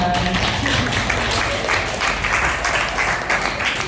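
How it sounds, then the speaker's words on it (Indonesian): A classroom of people applaud continuously, a dense close patter of clapping that holds steady throughout. "Yang ketiga, tepuk tangan dulu untuk Rahman."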